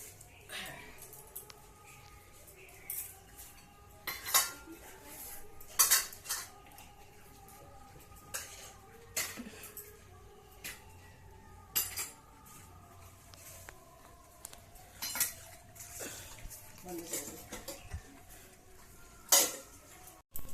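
Bowls and dishes set down and shifted on a surface in a home, a series of light clinks and taps spread irregularly over the span, close but fairly quiet, with occasional voices in the background.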